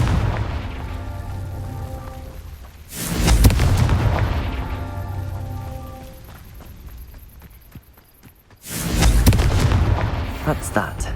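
Confringo fire spell explosions in the video game Hogwarts Legacy: two loud, booming blasts several seconds apart, each bursting out over a steady game background and fading slowly.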